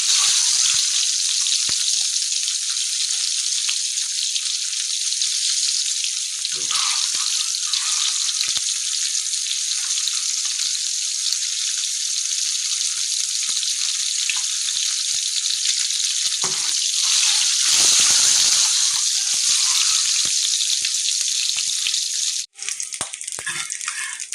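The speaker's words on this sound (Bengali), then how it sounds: "আমার ডিমগুলা ভাজা হয়ে গেছে, এবং ডিমগুলা তুলে নেব।" Eggs frying in hot oil for Bengali egg bhuna, a loud, steady sizzle that runs almost unbroken for the whole stretch, with occasional louder bursts and a brief dip near the end.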